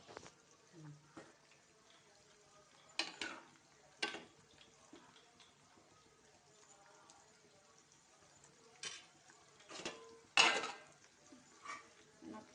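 Biryani mixture with green chillies and ginger-tamarind paste stirred in a pot: a few scraping, clattering spoon strokes against the metal pot, spaced apart, with a low kitchen hum between them.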